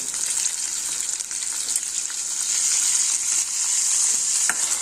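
Steady sizzling of a green mung bean curry frying in a pan as turmeric and black masala are stirred in, a continuous close hiss with faint scraping of the spoon throughout.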